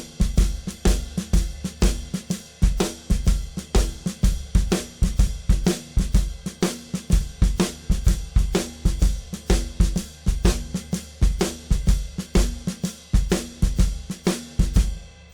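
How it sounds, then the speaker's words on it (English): A drum kit plays a Texas shuffle with a syncopation exercise on the bass drum, steady swung hi-hat or cymbal strokes over punchy kick accents, loud and continuous with no talking. "I'm going to play the first 8 bars of the syncopation exercise on the bass drum"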